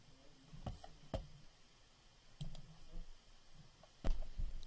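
Several sharp, close computer mouse clicks come at irregular intervals, four or five in all, each short and crisp over a quiet room background with no talk.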